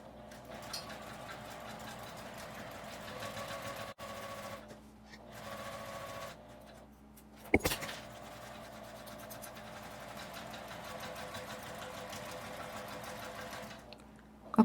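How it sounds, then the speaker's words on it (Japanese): A sewing machine stitches a fabric tissue box cover in steady straight runs, its motor whirring continuously with a few short pauses and one sharp knock partway through. "まっすぐつなげるように縫います。"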